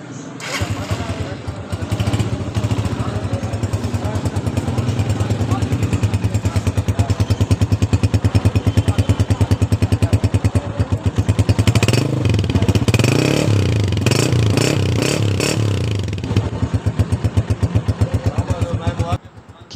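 A Honda 125 self-start motorcycle engine runs steadily up close with a loud, even chugging idle, then revs up briefly midway with some rattling before settling back to idle.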